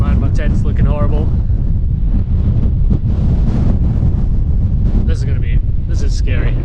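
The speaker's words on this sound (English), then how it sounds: "We're back in the wind." Strong gusty wind roars across the microphone high on the mountain Beinn Ghlas, a loud constant buffeting that drowns most detail, with a voice breaking through at moments.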